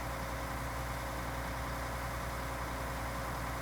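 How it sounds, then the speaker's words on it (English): Tractor engine idling in the farming game Farming Simulator 19, a steady low rumbling drone with constant loudness throughout, heard alone without any talk. "I'll leave the tractor running."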